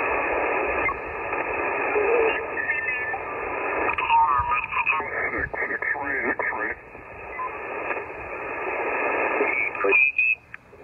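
An amateur radio receiver tuned to the 40 meter band hisses with band-limited static while distorted voices of operators come and go through the noise, ending with a short lull and a tone.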